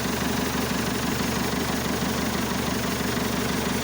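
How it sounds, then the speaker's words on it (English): A 1964 Massey Ferguson diesel tractor with a Perkins 352 engine idles steadily, a close, loud low rumble with an even pulsing beat and no talk over it. "our 1964 Massey diesel tractor with the 352 Perkins"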